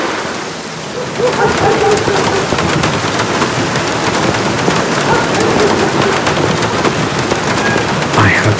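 Heavy rain pours steadily in The Black Mirror video game, a dense hiss on surfaces with a faint low rumble of thunder beneath, loud and continuous after a brief quieter start.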